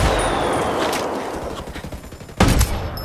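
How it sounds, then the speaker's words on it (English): Mortar fire in the video game Ghost Recon Wildlands sounds as a loud, continuous rumble of gunfire and explosions, with a heavy blast landing near the end. "Uh-oh, mortar, get out of that."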